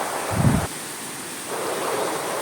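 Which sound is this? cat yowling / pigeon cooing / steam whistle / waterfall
waterfall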